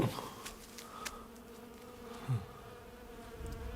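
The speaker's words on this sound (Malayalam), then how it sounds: "ഈച്ചകൾ പാറുന്നു." Flies buzzing in a dark horror film trailer, a faint droning hum with a few brief louder passes close by, against quiet low background sound.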